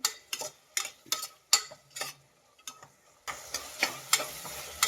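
Ingredients for pudina bath frying in a pan, stirred with repeated quick scraping strokes in an uneven rhythm over a soft sizzle that grows denser toward the end.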